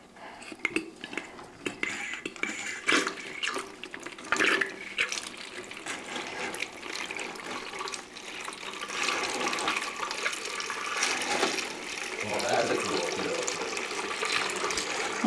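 Water siphoned out of a goldfish tank through a hose fitted with a small grate, a continuous gurgling rush that grows louder and fuller toward the end, with a few light clinks early on.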